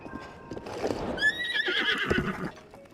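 A horse in The Legend of Zelda: Breath of the Wild lets out a rising, quavering whinny over the clatter of hooves, close and clear, with brief talk nearby.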